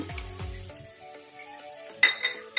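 Garlic paste and tomato fry in a pan with a soft crackling sizzle, broken by a couple of spoon scrapes and a sharp metallic clink near the end.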